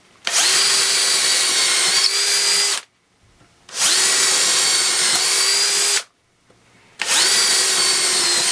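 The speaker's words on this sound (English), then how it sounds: "We'll switch to the other drill." A Bosch DDS181 cordless drill whirs in three long bursts with short pauses between, each run winding down as a screw seats; close and loud, no speech.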